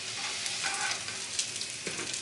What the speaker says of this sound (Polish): I smażymy. I tak oto ziemniaki podwójnie smażone mamy